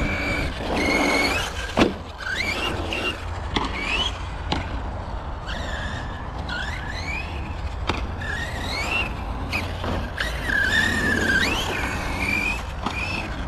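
Small RC car running over an outdoor pumptrack at a bike village, with whining electric motor pitch rising and falling through bumps and turns, plus scrapes and knocks, fairly close and steady throughout.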